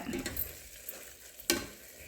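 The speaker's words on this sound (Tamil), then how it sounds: "அதையும் எண்ணெயில் நல்லா வதக்கி விட்டுடுங்க" Soft sizzling of spices sautéing in hot oil in a pan for kuska, with scraping stirs and a sharp clink near the end; steady and close, no voices.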